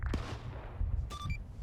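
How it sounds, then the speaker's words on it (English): Distant gunfire in a military-style SCP video game: a single sharp shot early on with a rumbling tail over low background noise, then a brief ringing electronic tone near the end. "Try and identify the gunfire."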